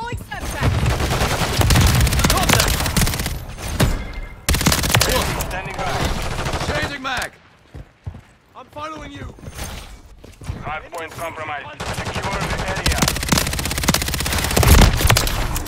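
Submachine gun fire in a video game comes in long, loud rapid bursts with brief gaps between them. A voice talks over and between the volleys.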